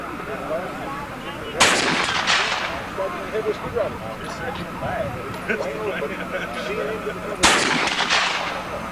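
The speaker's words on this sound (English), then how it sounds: "This is my first time shooting a mech tech." A Mech Tech carbine fires outdoors at a shooting range, with two sharp, loud shots several seconds apart that ring out over continuous nearby talk.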